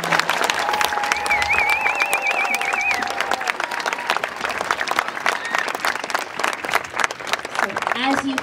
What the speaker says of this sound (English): Can we please give a round of applause to all of our kindergartners?